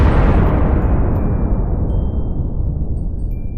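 A loud bomb blast in the video game Melon Playground, one big explosion with a heavy low rumble that fades slowly over several seconds, no voices.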